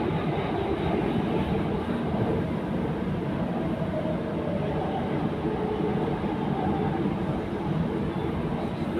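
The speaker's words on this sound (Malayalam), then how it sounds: "ഇതാണ് മെട്രോ സ്റ്റേഷൻ ബക്രയല്ലേ" A metro train rumbles at Al Bakra station on the Doha Metro in Qatar, a steady loud low roar that fills the whole stretch without pause.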